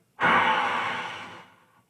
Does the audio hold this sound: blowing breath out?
yes